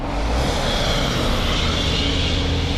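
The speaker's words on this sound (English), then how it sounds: "pardon the noise because it's like right next to the road" Dense, continuous roar of road traffic right next to the road, a steady broadband rumble with no pauses or voices.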